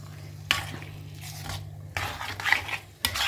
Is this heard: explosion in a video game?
no